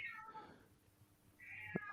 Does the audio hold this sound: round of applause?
no